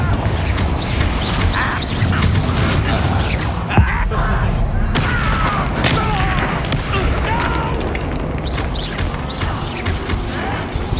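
Fiery Confringo spell blasts in Hogwarts Legacy burst amid busy combat, with crashes and thuds over constant game clamor and some voices.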